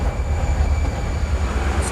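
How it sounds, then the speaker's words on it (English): An underground train carrying workers and raw materials through a mega tunnel under construction rumbles steadily and loudly, with a low continuous drone and no voices. "The only way for me to reach it is to jump on board this underground train, used to carry workers and raw materials."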